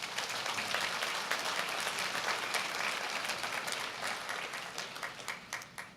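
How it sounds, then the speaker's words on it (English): Steady audience applause at a university convocation ceremony, a dense, even wash of many hands clapping throughout, loosening into more distinct claps near the end. "Let's give them a big round of applause,"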